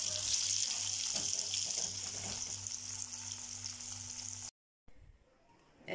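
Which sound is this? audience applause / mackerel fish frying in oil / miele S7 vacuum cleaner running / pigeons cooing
mackerel fish frying in oil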